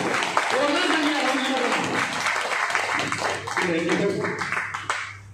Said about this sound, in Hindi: एक ताली ऐसी दिल खोल के बजाओ